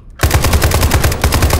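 An AK rifle in an SCP zombie video game fires a rapid, sustained automatic burst, loud and close, with evenly spaced shots rattling on for over a second.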